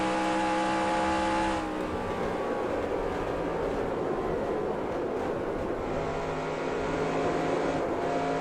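A race car engine in NASCAR Racing 2003 Season, in an Xfinity car at Atlanta, drones steadily at high revs and shifts pitch partway through, a continuous loud engine whine with no talking.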